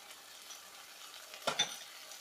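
Ginger, garlic and green chilli paste frying with browned onion in a pan, faint steady sizzle with two quick stirring scrapes near the middle, close and quiet.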